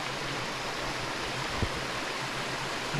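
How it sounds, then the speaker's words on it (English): Soft, steady rush of flowing stream water, a constant faint wash of noise with one small knock near the middle. "Nice to turn off the engine so we hear the water running."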